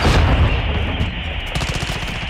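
Dense gunfire and explosions from Call of Duty: Modern Warfare II fill the scene, loud and continuous, with heavy low booms early and rapid bursts of shots toward the end.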